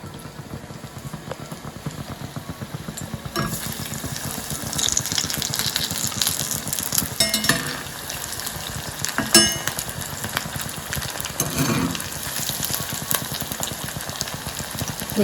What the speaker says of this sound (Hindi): अब हम इसे फ्राई करेंगे।